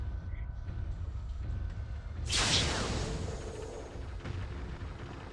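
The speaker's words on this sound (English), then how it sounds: "Missile launch detected. Here they come." Missile strikes in Mechwarrior 3 arrive as a sudden loud explosive burst midway, a broad roaring blast that swells and slowly fades over a low rumbling battlefield background.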